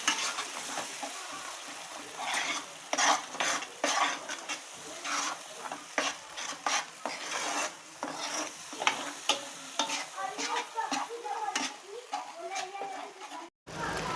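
Gravy and spices for paneer being stirred in a pan, with frequent busy scraping and clattering strokes over a mild sizzle while someone talks throughout.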